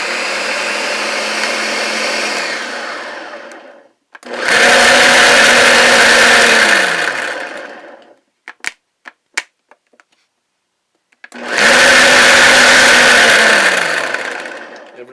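A loud Ninja blender motor whirs in three long bursts, each winding down at the end, with a few sharp clicks in the pause between the second and third.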